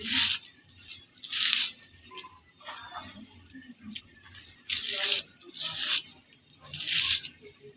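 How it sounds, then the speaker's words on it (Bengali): Dried chili and onion mash is rubbed on a stone grinding slab with mustard paste, making rhythmic, gritty scraping strokes in bursts about every second, close up. "এখন আমি এই ভর্তাটা ভালোভাবে ডলে করে নেব পাটার উপরে"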